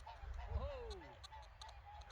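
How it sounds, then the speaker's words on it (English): A single goose honks in the open air near a metal-detecting dig. It gives one drawn-out call over steady wind and low background rumble, moderately distant. "Oh, look at that goose."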